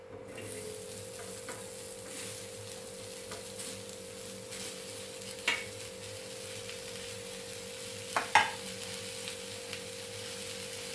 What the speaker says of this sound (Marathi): मी आता ह्या तव्यावर हा कांदा भाजून घेणार आहे